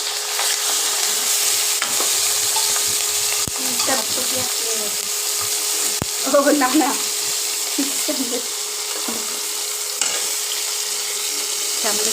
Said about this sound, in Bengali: এবার কড়াই তেল হয়ে গেছে এবার একসাথে ভেজে নেব